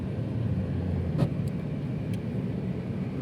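A Mahindra Scorpio drives along in second gear, giving a steady low engine and road rumble throughout, close and even, with a couple of faint higher ticks and no talk.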